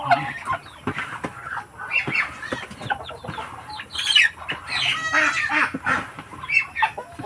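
A flock of Muscovy ducks squawks and chatters in a dense, overlapping clamor, with occasional sharp louder cries and wing flutters, close by.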